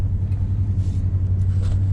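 A big three-quarter-ton pickup truck crawls along tight hunting trails in four-low, second gear, with a steady low engine rumble and road noise holding close and even throughout, no voices.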